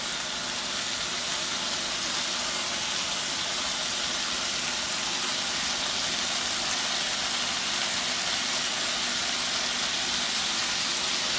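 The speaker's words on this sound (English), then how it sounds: "Just a nice sizzle." Bacon strips sizzle steadily in a pan, a continuous close hiss with no popping that holds level throughout without any talk.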